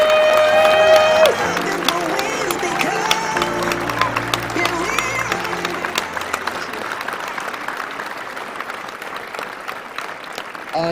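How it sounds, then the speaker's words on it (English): Parents, leaders and audience at a Durham Scouts awards ceremony give a sustained round of applause, dense clapping mixed with crowd noise that starts loud and slowly thins out over the clip. "let's give a big round of applause"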